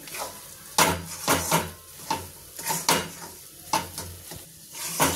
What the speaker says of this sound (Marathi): खारीक पावडर आपल्याला हलकीशी भाजून घ्यायची आहे याच्यामध्ये.